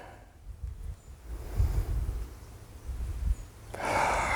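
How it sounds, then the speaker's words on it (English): Wind blowing outdoors among trees, soft low gusts and faint microphone buffeting that swell and fade, rising into a louder rushing gust near the end, with no voice. "as the wind comes again"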